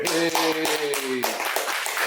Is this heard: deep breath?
no